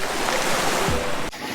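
Waves wash onto a beach on Procida island, a broad surf hiss mixed with wind buffeting the microphone. The sound stays steady for most of the moment, then drops off abruptly near the end.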